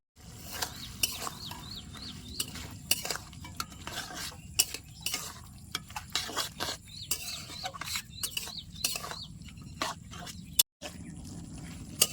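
Metal spoon scraping and clinking in a pan while stirring a village-style shrimp and greens-stem chorchori, steady rhythmic scrapes close up, with a rooster crowing faintly in the distance.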